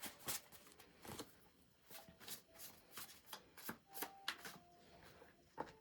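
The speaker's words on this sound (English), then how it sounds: "Let me pull some cards." Tarot cards shuffled by hand in a quiet room, a run of soft riffling bursts and slaps repeating at an uneven rhythm, close and fairly faint, with no talking.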